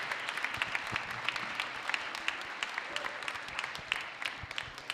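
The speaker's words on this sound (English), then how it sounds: "So help me give Professor Wang a nice round of applause." A large lecture audience applauds steadily for the full stretch, a dense, even wash of many hands clapping with no talk over it.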